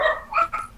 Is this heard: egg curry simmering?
no